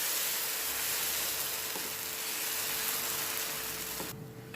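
Adai batter sizzles steadily on a greased, hot dosa griddle, a close, dense frying hiss with a few faint clicks, fading slightly at the very end.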